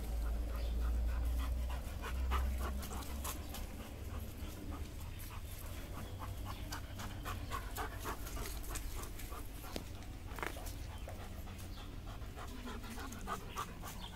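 A Dobermann dog pants quickly and rhythmically close by while patrolling a yard, with soft regular breaths and faint background noise.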